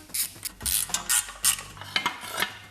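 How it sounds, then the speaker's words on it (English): A ratchet clicks in short bursts while loosening oil pan bolts on a car, close and fairly loud, the bursts of rapid pawl clicks separated by brief pauses. "I just like to loosen each bolt a little bit"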